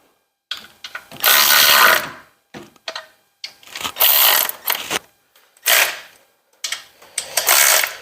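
Ratchet wrench fitted with a swivel extension turning a bolt on a 1957 engine, a series of close, loud ratcheting bursts separated by short pauses.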